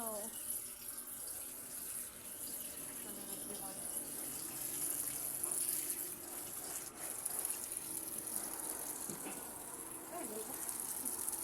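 Tap water runs and splashes as something is washed under a faucet, a continuous hissing flow with clatters and shifting gushes, faint and close.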